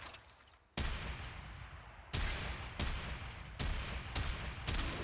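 Shotgun blasts from a Hek in a video game, four sharp, heavy booms spaced unevenly with a dense roar sustained between them, at moderate level and with no talking.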